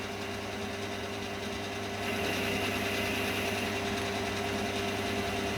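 A Myford ML7 lathe runs steadily at about 600 RPM, giving a continuous mechanical hum with a fixed whine that grows slightly louder and brighter partway through, with no talk over it.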